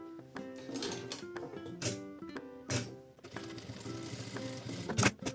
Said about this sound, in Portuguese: vai só fazer um pesponto numa parte de cima dos dois lados